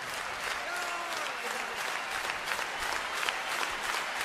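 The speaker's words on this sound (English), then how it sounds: "a pretty happy crowd here in front in Skellefteå Kraft Arena" Hockey crowd applauding inside Skellefteå Kraft Arena during a playoff semifinal game, a dense, steady roar of clapping from a large audience that holds loud and continuous throughout.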